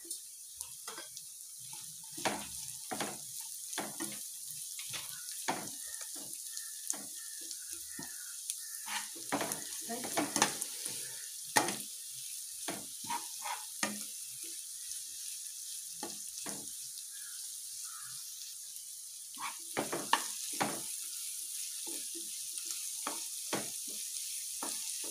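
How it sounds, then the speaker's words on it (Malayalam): Chopped small shallots sauté in hot oil with fried garlic and ginger, a constant hiss broken by frequent scrapes and knocks of a stirring spoon against the pan, close and moderately quiet. "ഞാനിവിടെ എടുത്തിരിക്കുന്നത് 30 ചെറുവിള്ളി ചോപ്പ് ചെയ്തതാണ്. അത് ചേർത്ത് കൊടുത്ത് നമുക്കൊന്ന് വഴറ്റിയെടുക്കാം."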